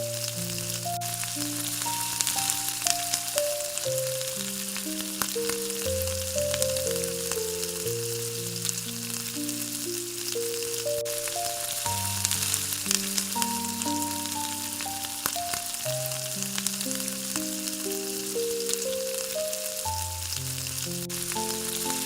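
Vegetables sizzle and crackle steadily in a hot wok for a hilsa fish head curry, a constant frying hiss with soft tonal music playing along underneath.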